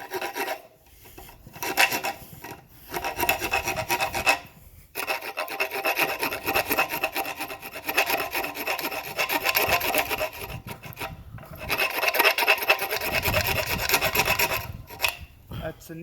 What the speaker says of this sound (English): Do you want to try sawing the bone at all?